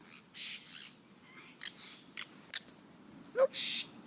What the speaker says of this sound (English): Apostle birds.